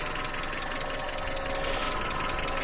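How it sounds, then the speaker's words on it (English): An old Toyota truck engine idles steadily nearby, a continuous rough mechanical drone with a faint knocking texture and no speech. "Got the engine running."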